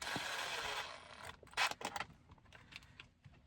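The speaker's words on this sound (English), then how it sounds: "And now let's put these 4 screws back in." Screws are driven back into the center console of a 2014 Honda Ridgeline RTL. A few quiet mechanical creaks and ratcheting clicks come in short, irregular bursts, with no talking.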